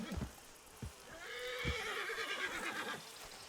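A horse whinnies loudly for a couple of seconds in Red Dead Redemption 2, with a few hoof clops and thumps before it and a faint voice in the background.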